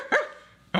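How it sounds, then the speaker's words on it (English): Two dogs fighting give a couple of short, sharp barks a fraction of a second apart, fairly close, with no talk over them. "Two dogs going at it."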